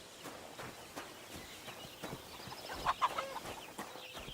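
Chicken clucking in the medieval game Kingdom Come Deliverance 2, a few short clucks in the middle of a busy village scene with hoof clip-clops and footsteps, fairly faint.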